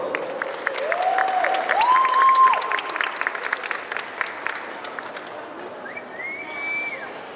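Crowd applause at a Genshin Impact cosplay parade, swelling then easing, with a host talking over it and a few high whistles or cheers rising above the clapping.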